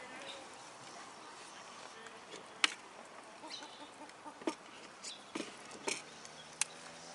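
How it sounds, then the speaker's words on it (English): Ducks scrounging beside a camera at a suburban cricket ground during a grade match, giving soft scattered quacks and pecking clicks near the microphone over faint outdoor background. "And there are some ducks right next to the camera."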